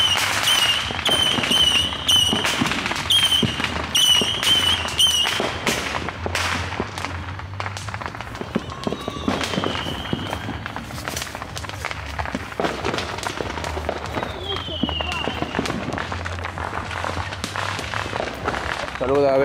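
Christmas fireworks and firecrackers in Moyobamba burst in rapid, irregular cracks and pops, some sharp and close, others distant, with a couple of rising whistles, while people talk and call out throughout.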